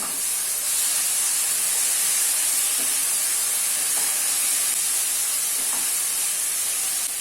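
Finely chopped tomato goes into a chole chana masala and is stirred in, giving a loud, continuous sizzling hiss throughout with a few faint scrapes and no talking.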